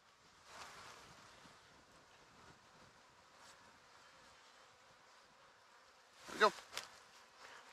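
Honey bees buzz softly around a swarm trap outdoors, a faint continuous drone with a few closer passes and a louder burst of buzzing near the end, set against light wind noise.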